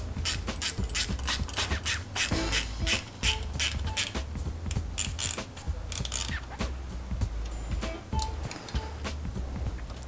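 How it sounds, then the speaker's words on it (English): Mounting hardware on a Yepp Maxi child seat is tightened with a ratcheting tool, producing rapid, close clicking and mechanical rattling in continuous bursts with short pauses throughout. "we're going to tighten the other side up a little bit so everything tightens evenly"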